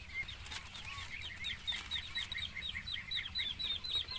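Young ducklings kept in a pen wait for feed, giving a steady stream of many short, high peeping calls with some wing flutter and scuffling close by, with no one talking.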